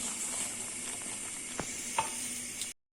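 Sugar being stirred into boiling water for apple compote makes a continuous hiss of steam and bubbling, with a few soft scraping stirs before it cuts off abruptly.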